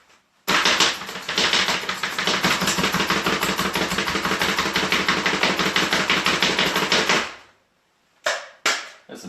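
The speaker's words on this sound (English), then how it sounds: "There's some minced shallots right there." A knife minces shallots on a cutting board in fast, even, close chopping taps that run for about seven seconds, then stop, followed by a couple of scraping knocks.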